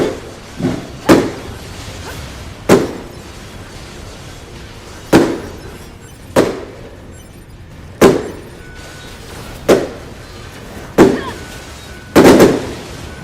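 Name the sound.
loud fireworks going off close by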